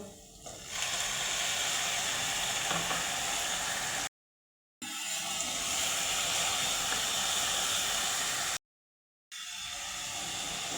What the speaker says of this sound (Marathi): कांदा आपला गोल्डन ब्राऊन झालेला आहे आता लसणाची पेस्ट टाकूया